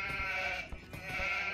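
Sheep bleat in the Age of Empires II strategy game, a few short nasal bleats over a steady layered game ambience.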